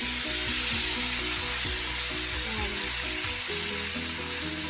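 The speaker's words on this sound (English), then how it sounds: "My oil was already hot. Now I'm going to put our spicy on it." Spicy seasoning hits hot oil for Haitian rice, a loud, continuous close-up sizzle and crackle that holds steady throughout with no voices.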